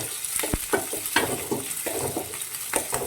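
Curry leaves hit hot oil in a pan for a simple chicken palipalaya, giving a loud, crackling sizzle with several sharp pops and stirring scrapes, no talk over it.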